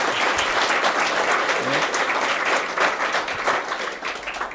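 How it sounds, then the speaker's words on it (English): A conference audience in Mannheim applauds a speaker, a loud, dense and sustained burst of clapping from many hands heard up close throughout. "And that let's give a huge applause again to Frank"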